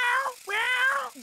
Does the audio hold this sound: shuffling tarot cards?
no